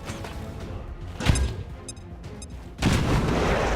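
A frag grenade in XCOM 2 goes off with a sharp boom near the middle, followed later by a broad, rumbling blast that holds steady under a noisy battle background, with no talking.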